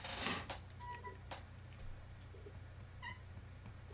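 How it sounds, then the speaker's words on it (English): A young kitten meows softly a few times in a quiet room during a drawing session, with short high cries spaced apart over low background hum. "There's my kitten again."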